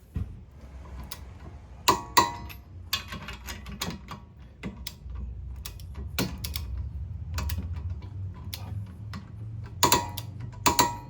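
A torque wrench works on the wheel lug nuts of a Toyota Corolla fitted with 20mm wheel spacers, giving sharp clicks spaced irregularly over quiet mechanical shuffling and ratcheting, close up and without talk.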